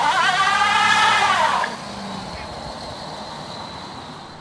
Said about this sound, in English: we got a neutral drive drop down about to happen